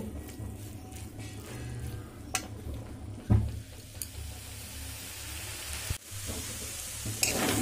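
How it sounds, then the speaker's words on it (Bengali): Steady sizzling of beetroot frying in a pan, with occasional scraping and clinks as it is stirred. "একটু নাড়াচাড়া করে ভালো করে ভেজে নেব।"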